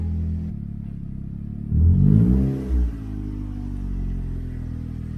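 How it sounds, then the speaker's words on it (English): A turbocharged Toyota Corolla fitted with a cold air intake idles with a low steady rumble, then revs up briefly in a loud swell and blips once more before settling back to idle, heard close with no talk. "maybe this might make the turbo sound a little louder."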